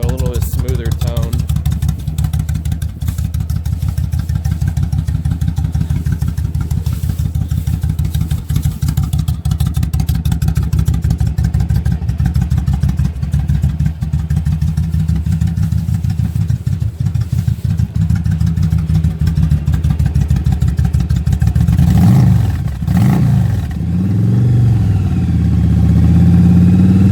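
A custom motorcycle exhaust idles with a deep, steady rumble, its idle set a little lower for a smoother tone, loud and close throughout, with a few throttle blips and revs near the end.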